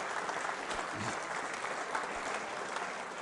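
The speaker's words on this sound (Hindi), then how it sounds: "इस जानकारी के लिए तालियां बजा सकते हैं जोरदार तरीके से आप।" An audience at a school quiz show breaks into strong, steady applause, dense clapping at an even level from start to finish.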